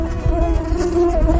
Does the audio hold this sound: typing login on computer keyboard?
no